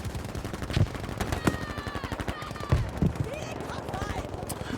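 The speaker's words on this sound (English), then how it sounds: "Brian taking incoming fire from I think it's an FG42 of Strider" Rapid automatic FG42 rifle fire in a competitive multiplayer match of a World War II video game, sharp repeated bursts with a few louder cracks, running under a commentator's steady talk.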